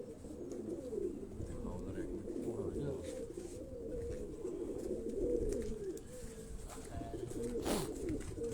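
Pigeons of Ustad Shahid Shabir's breed on a Karachi rooftop, low cooing continuing throughout, close and steady, with faint outdoor noise and a brief sharp sound near the end.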